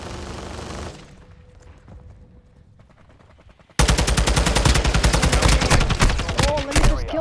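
Call of Duty MW gameplay: muffled, distant shots at first, then a sudden burst of loud, close rapid automatic gunfire that continues in a dense rattling stream.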